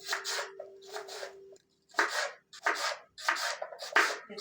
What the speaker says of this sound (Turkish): Lahanalarımı incecik doğradım.